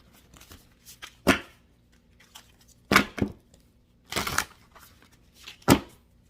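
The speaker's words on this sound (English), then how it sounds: "One more shuffle" Tarot cards shuffled by hand in short crisp bursts, four distinct riffling rustles spaced a second or two apart, close and fairly quiet against a low steady background hum.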